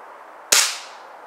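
A single sharp crack from a Gamo Varmint air rifle fired at targets outdoors, close and loud, with a short fading tail and no voices.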